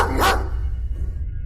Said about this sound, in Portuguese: fazendo os cachorros começarem a latir